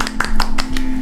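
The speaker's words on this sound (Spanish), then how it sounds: "Pero usted se merece también este aplauso." A few sharp, close hand claps in a loose rhythm over a steady low hum, a brief burst of applause lasting about a second.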